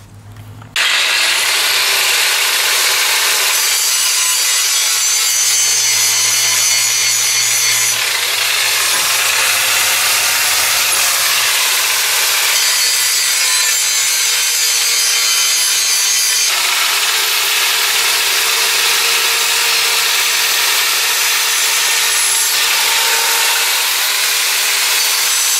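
A John Deere mower blade being sharpened with a power tool, a loud continuous grinding whine that holds steady for the whole stretch and shifts in pitch at a few points as the pressure changes.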